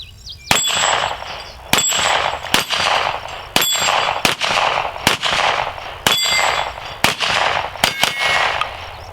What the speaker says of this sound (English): Frankly, the gun shoots itself.